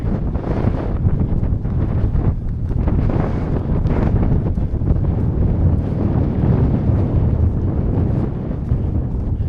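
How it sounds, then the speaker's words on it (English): Loud, continuous wind roars and buffets the microphone in heavy gusts on an exposed high point of a fell walk around Coniston, with no talking. "Find somewhere a bit less windy."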